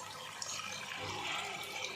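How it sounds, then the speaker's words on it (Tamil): Water is poured from a vessel into rice porridge (nombu kanji) cooking in a pot, a steady broad splashing stream that runs continuously at moderate level with no talk over it. "இப்போ இதில் 1 லிட்டர் தண்ணி சேர்த்துக்கலாம்."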